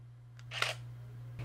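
A single-lens reflex camera set to 1/2000th of a second fires its shutter once, a sharp quick mechanical clack with a fainter click before and after, over a low steady hum.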